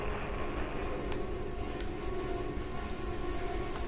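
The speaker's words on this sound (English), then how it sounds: "where is it raining from? Is that just the pipes?" Steady rainfall hisses evenly in the horror game The Park, a dense, constant patter with faint drips, fairly quiet and uninterrupted.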